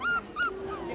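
A puppy at a traditional rural market whimpers and yips in short high whines, three brief cries close by with a softer trailing whine, heard alone without talk.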